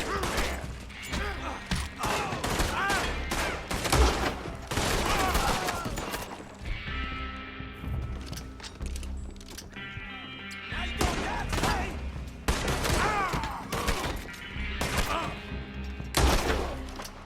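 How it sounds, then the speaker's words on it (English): Rolling block rifle gunshots in the Red Dead Redemption video game crack in loud bursts several times across the stretch, mixed with game effects and thuds, separated by quieter gaps. "I think I shot that guy right through the floor."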